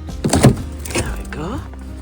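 A car is opened after a blizzard: a brief electric whir of a power window or door mechanism with a clunk, heard up close while a person speaks briefly.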